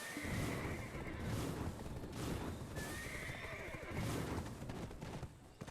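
A Doom-tier horse ridden through Manshaum Forest in Black Desert Online neighs and whinnies over steady clip-clopping hooves, with loud, continuous galloping and repeated whinny calls throughout.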